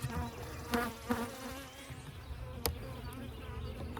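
Honeybees buzz steadily around an opened Layens hive during a colony inspection, a continuous close drone with a few louder swells as bees pass near.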